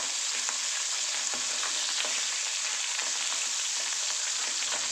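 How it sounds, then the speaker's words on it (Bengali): Fresh pabda fish rubbed with salt and turmeric frying in hot oil, giving a loud, steady, continuous sizzle with occasional small pops and no voices. "মাছগুলো দিয়ে দিয়েছি, আমরা মাছগুলোকে একটু ভেজে তুলে নেব।"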